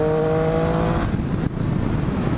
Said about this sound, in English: I'm at about 5K RPMs right now in fourth gear, and if I just roll on the throttle